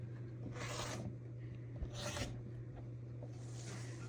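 A rotary cutter trims around a fabric Iris quilt block on a rotating cutting mat, heard as three soft, scraping strokes spaced about a second apart over a steady low hum, close by.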